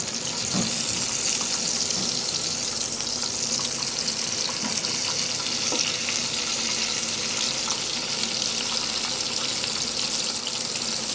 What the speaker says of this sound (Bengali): এখানে আমি প্রথমে শুটকিগুলো ভেজে উঠাবো।